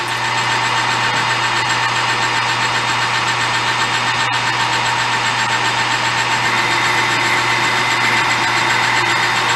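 A thin boring bar bores out a metal part on a machine, a steady humming drone with a constant tone and even mechanical noise running unbroken throughout.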